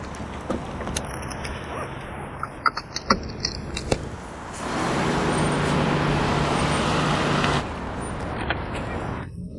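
A car moves through road traffic, with some light clicks and rattles early on, then a louder broadband rush of passing vehicles in the middle before the noise eases back down.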